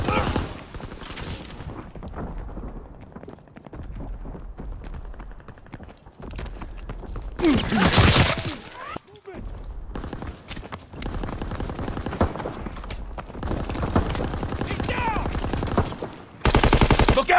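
Gunfire in a Call of Duty WWII multiplayer match: dense bursts of automatic fire and single shots crackle throughout, with a few louder close volleys, under intermittent game voice callouts.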